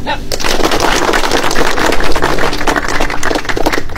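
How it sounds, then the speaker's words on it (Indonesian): A group of students claps together in a dense, loud, rapid burst of sharp claps that runs for several seconds in a school assembly setting. "Tepuk tangan."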